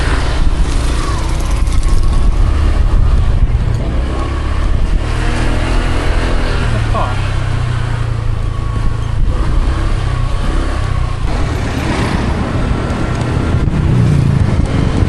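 Motorbike ride in wet weather around Moalboal, with a steady loud engine drone and wind rumble running throughout, the engine pitch rising and falling slightly as it travels.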